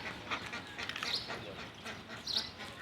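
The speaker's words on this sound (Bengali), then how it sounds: "দেখেন হাঁসে খাবার দিয়েছে, হাঁসে খাচ্ছে" Ducks being fed outdoors by a pond, faint quacks heard in a few short bursts at low volume.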